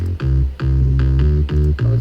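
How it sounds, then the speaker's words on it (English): A heavy electronic drop bass synth pounds out deep sustained notes in a choppy, pulsing rhythm, loud and close, cut into short repeated bursts. "We have a drop bass here."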